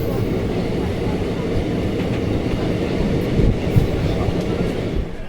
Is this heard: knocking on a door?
no